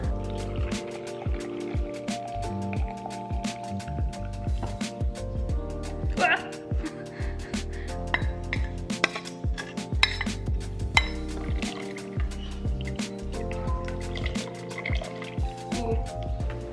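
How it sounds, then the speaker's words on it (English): Thai tea mix being poured into a container in a home kitchen, a steady close liquid splash and trickle with scattered clinks of dishes over about seventeen seconds, no talk. "Okay, so I'm putting the Thai tea together. I pour it in"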